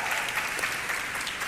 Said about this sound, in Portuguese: Você pode aplaudir essa equipe maravilhosa?